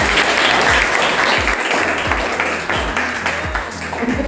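An audience at a training workshop applauds to welcome a director, loud sustained clapping from a room full of people, with some individual claps standing out rhythmically near the end.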